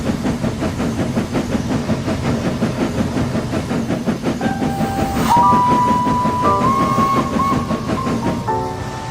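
Henry the steam locomotive, a Trainz animation, pulling away and running with a fast rhythmic chuffing and hissing steam, loud and close, joined midway by a rising mechanical whine and a brief squeal near the end.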